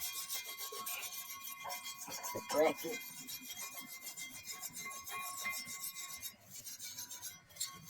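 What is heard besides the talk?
wire brush scrubbing brake dust off a BMW brake caliper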